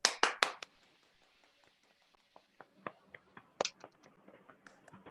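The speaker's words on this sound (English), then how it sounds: "Clapping for you." Applause at a graduation ceremony breaks out in a few loud close claps, then thins into scattered, fainter claps and taps from a small crowd, with intermittent bursts continuing to the end.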